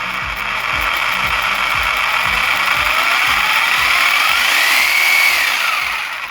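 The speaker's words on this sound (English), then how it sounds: "But that's my Sawzall" A Sawzall reciprocating saw runs close and loud with a fast, steady mechanical chatter and rhythmic pulsing throughout, with no talking.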